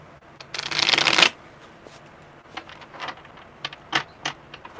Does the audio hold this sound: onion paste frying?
no